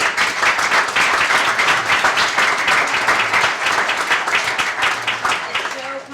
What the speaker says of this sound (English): give every one of you a huge thank you and a hand of applause